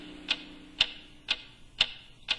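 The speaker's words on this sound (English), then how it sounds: "What is that mysterious ticking noise?" A clock ticks in an even rhythm, five sharp bright clicks about half a second apart, close and distinct over a quiet low background hum.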